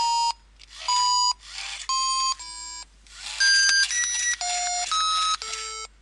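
A Thymio robot plays R2D2-style beeping notes, a quick run of short electronic tones at shifting pitches, some clipped and some held, clear and close with no voices.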